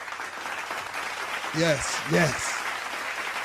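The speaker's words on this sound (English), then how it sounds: "Yes, give them a round of applause" An audience applauds at a live talk-show taping: steady clapping runs through the whole moment while a man calls out over it.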